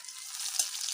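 Hot oil for tempering with a dried red chilli, whole mustard seeds and chopped onion, a soft steady sizzle with one small pop, faint and alone.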